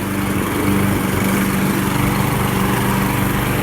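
Toro Smartstow Recycler 22-inch walk-behind mower cutting grass, its small engine running with a loud, steady buzzing drone close by throughout.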